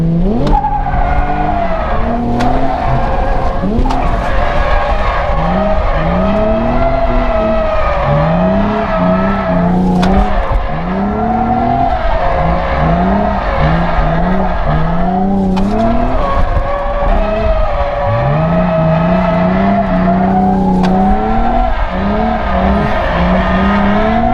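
A bone-stock Nissan 350Z drifts with its engine revving hard and swinging up and down in pitch. Long tire squeals run throughout, loud and continuous, with no pause.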